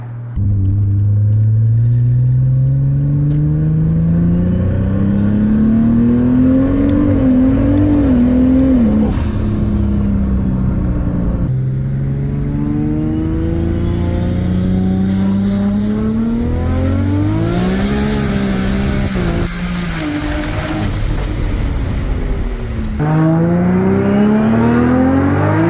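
A Toyota Land Cruiser fitted with an aftermarket transmission control unit accelerates hard, engine note climbing steadily then dropping at each crisp gear shift, repeated several times, loud and close throughout.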